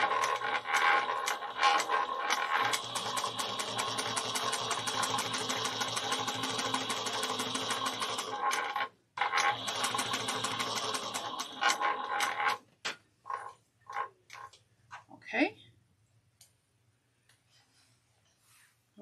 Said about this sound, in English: we're only putting the top stitching of 1/8 of an inch on our exterior pocket piece